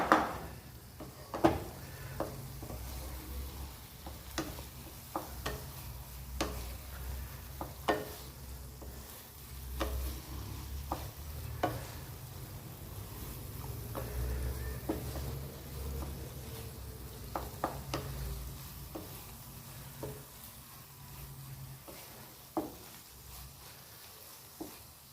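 Carrot halwa (gajar halwa) stirred in a pan as the milk cooks down dry, a spoon scraping and clacking against the metal in irregular strokes over a soft steady sizzle, close and fairly quiet.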